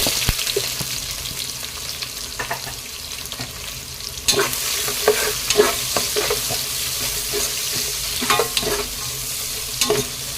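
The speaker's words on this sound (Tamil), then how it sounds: "வெங்காயம் கோல்டன் ப்ரௌன் கலர்ல வர வரைக்கும் வதக்கிக்கோங்க" Sliced onions sautéing in ghee in a pan, a steady sizzle with repeated scraping stirs of a spoon against the pan, close and continuous with no talking.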